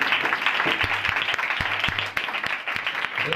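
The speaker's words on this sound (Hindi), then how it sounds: "जिंदा खुदा के लिए जोरदार तालियां बजाएं।" A church congregation applauds loudly during a Hindi-language worship service, a dense, steady wash of many hands clapping with a few sharper individual claps standing out throughout.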